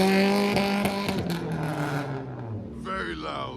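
A Mitsubishi Lancer rolls over a harsh speed bump at a Japanese car meet in Reading, its loud engine droning close by with a pitch that sinks steadily before a brief higher rev near the end.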